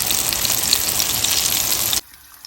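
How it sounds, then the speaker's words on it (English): Longganisa and eggplant sizzle in a pan over low fire, a loud, dense, crackling hiss with scattered pops that cuts off abruptly into near silence. "So we have the longganisa cooking here on low fire, and then the eggplant here"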